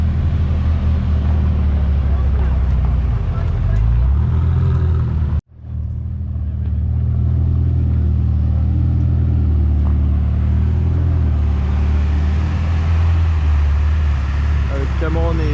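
A Lamborghini Aventador supercar at a car gathering at a château, its engine giving a loud, sustained rumble that briefly cuts out and then returns, with a voice talking over it.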